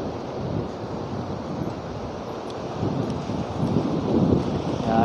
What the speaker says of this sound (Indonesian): Ombaknya cukup besar tapi di tengah ya.